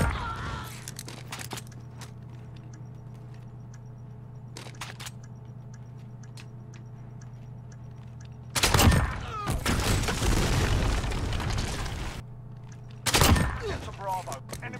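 Gunfire in a tactical shooter video game with bomb sites and defusing: two loud bursts of shots stand out over a steady low game hum and scattered clicks, the first one longer and the second short, with a voice talking briefly.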